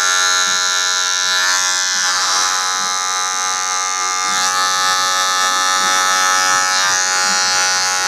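Electric hair clippers buzz steadily and loudly up close as they glide lightly over the head during a skin fade in a barbershop, a continuous high hum with slight shifts in tone as the blade moves.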